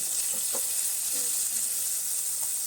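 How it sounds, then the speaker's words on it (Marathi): Soaked tamarind water goes into a hot pan of dried ribbon fish curry, setting off a loud, continuous sizzle and hiss close by, with a few faint stirring knocks underneath. "आता आपण चिंचेचं पाणी घालून घेऊ"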